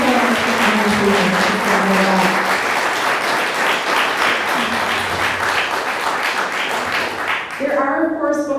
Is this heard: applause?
yes